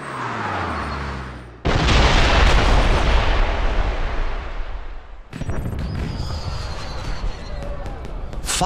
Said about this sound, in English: Did you know there were going to be fireworks?